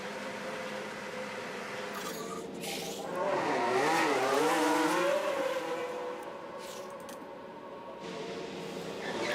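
Racing cars in F1 Manager 24, a Cadillac team season race at the Canada 2027 sprint weekend, roar steadily around the track, swelling into a loud pass with rising engine whine midway before easing back to a constant engine drone.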